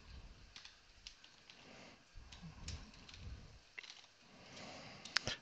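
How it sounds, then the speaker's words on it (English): Faint, uneven typing on a computer keyboard during an Ubuntu and Active Directory setup session, with scattered quiet key clicks and a few sharper taps toward the end over a low background hum. "forgive me, my typing is terrible today."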